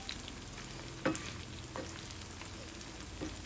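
Baby corn for a crispy restaurant-style baby corn 65 fries in oil, giving a soft, even sizzle with a few faint pops, quiet and without talk.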